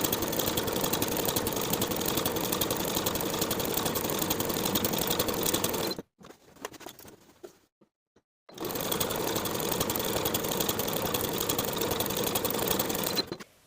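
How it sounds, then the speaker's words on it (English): A sewing machine stitches 1/8-inch seams along pin tucks on the wrong side of blouse fabric, running steadily and loud for about six seconds, pausing briefly with faint handling noises, then running again. "we're going to sew on the wrong side of the fabric along each of those pinned upper folded edges of the pin tucks with an 1/8 inch seam allowance"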